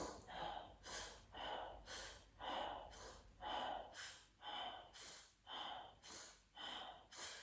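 Rhythmic breathing during a Hatha yoga session, about a dozen audible breaths in and out, steady and close, with no talking over them.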